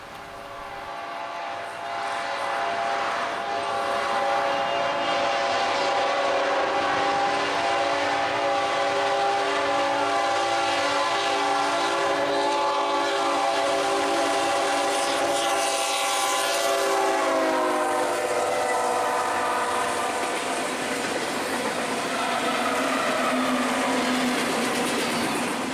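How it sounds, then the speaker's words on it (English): A Norfolk Southern freight train passes close by, its harmonic horn blaring in long sustained blasts over a steady roar of rolling cars, with no talking. "And hearing that faint horn, here comes NS"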